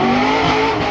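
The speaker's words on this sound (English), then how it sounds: "a bit of good old-fashioned German V8 muscle. It's the new AMG." A brief, loud burst of a Mercedes-AMG V8 supercar on Michelin Cup 2 semi-slick tyres at the Goodwood Festival of Speed supercar run, a close, steady engine roar.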